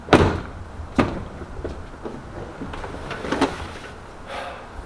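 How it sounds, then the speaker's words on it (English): A car door clunks open and shut a few times, sharp thuds spaced a second or two apart against a quiet background. "Let's make sure the door opens and closes."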